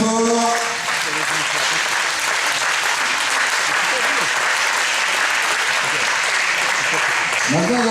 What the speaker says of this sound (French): Et on les applaudit très fort.